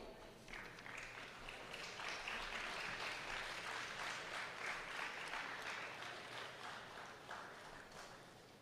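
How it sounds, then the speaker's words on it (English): Sustained applause from a convocation audience at IIT Madras fills the hall, a dense steady patter of many hands that swells in the middle and tapers slightly toward the end. "thank you all for cheering on"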